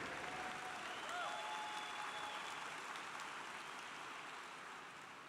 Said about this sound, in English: Things are off to a good start with unexpected applause right from the very beginning